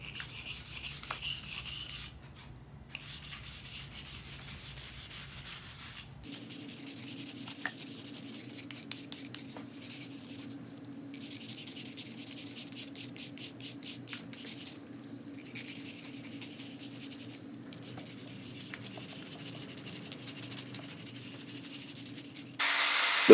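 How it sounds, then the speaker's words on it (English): A small handheld brush scrubs and rubs inside a concrete foundation crack during a DIY repair, making a steady close rasping scrape with short bursts of quicker strokes and brief pauses, alone without talk. "It comes with this cool little brush that we can use to clean this crack."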